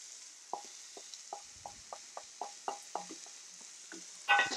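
Butter sizzles faintly in a hot pan with a sous vide ribeye steak, a steady hiss broken by a regular series of soft scraping or tapping strokes, ending in a louder clatter.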